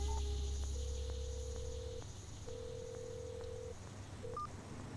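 A telephone keypad sounds a series of short dialing tones, one after another with brief gaps, over a quiet background hum in a thriller film scene.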